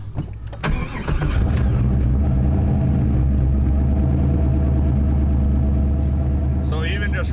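Turbocharged Camaro engine revving near 3,300 rpm at idle, a loud deep rumbling drone that holds steady after an initial clunk, with a voice speaking over it.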